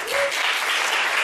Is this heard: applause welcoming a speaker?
yes